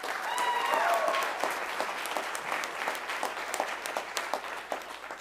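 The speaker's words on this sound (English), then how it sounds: "please join me in another round of applause for Second Lieutenant Dalton Andrew Worley" Applause from the audience at a Spring 2022 ROTC commissioning ceremony for a newly commissioned second lieutenant: dense, sustained clapping that starts loud, then thins and tapers toward the end, with faint crowd murmur beneath.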